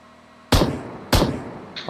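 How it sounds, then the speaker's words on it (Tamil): Gunfire in the BGMI battle royale video game, two loud sharp shots about half a second apart, each with a short decaying tail, followed by a fainter third burst. "அபி சுடு ரைட்டா."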